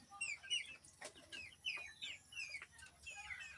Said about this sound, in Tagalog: Ginawa ko na lang ng kulungan ng manok. Diyan, may mga manok yan.